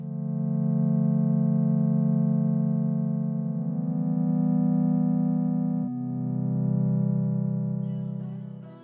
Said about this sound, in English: We're going to start with a triangle wave for a soft tone